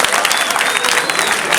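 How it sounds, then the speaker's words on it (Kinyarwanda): A crowd at a comedy performance breaks into loud, dense applause, close and continuous, many hands clapping together at once with faint crowd noise mixed in. "akomera amashyi"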